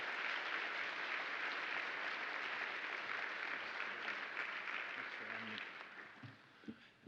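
Sustained audience applause in a conference hall welcoming Judge Katsas, a steady dense wash of clapping from a sizeable crowd that thins out near the end, with a few scattered claps left.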